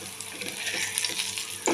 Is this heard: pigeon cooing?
no